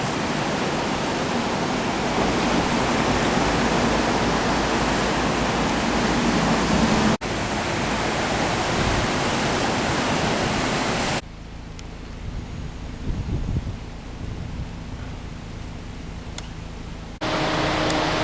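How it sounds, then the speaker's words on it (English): The Pompano River flowing down a valley near a surf spot in the South Pacific: a continuous broadband rush of water, loud and steady, with a couple of abrupt cuts and a quieter stretch in the middle. "I think this is the Pompano River."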